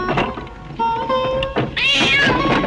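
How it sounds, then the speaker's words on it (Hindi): A cat crossing a path meows, a short, close, wavering cry that rises toward the end over faint background noise. "देख तो बिल्ली रास्ता काट गई।"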